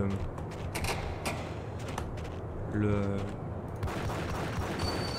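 Rapid cracks of pistol fire from dual-wielded handguns in a video game, scattered shots spread across the stretch amid steady game background noise.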